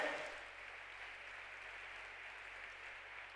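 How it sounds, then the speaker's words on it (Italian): Applause from an audience at a motivational event, an even patter of many hands clapping that starts a bit louder and then holds steady throughout. "Give him a round of Buon applause."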